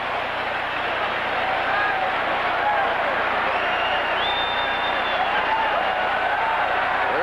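A big stadium crowd at a 1983 college football game, Nebraska versus Penn State, applauds a parachutist touching down near midfield, a steady broad wash of clapping and cheering that carries through the whole stretch.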